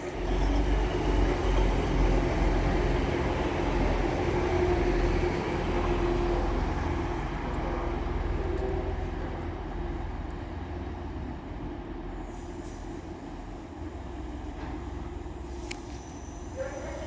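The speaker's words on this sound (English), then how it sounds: "Now getting ready to depart is the 1234 LNER service to Edinburgh Waverley." An LNER train at York station on the East Coast Main Line, a steady loud low rumble of engines and wheels that holds throughout and eases slightly toward the end, with no voices.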